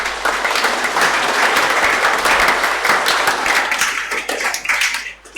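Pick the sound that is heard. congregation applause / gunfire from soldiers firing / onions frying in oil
congregation applause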